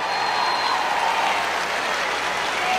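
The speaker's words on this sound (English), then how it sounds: "And the crowd goes wild." A large political rally crowd bursts into sustained applause and cheering, a dense, steady roar of clapping that stays loud and unbroken throughout with no talk over it.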